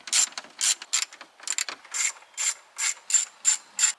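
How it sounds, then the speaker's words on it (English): A ratchet clicking out bolts behind the removed dash bezel of a Chevy Silverado, in quick rhythmic bursts of sharp metallic ticks, close and clear, with no talking. "Now we're going to start making our way around where the bezel was at and getting these bolts out."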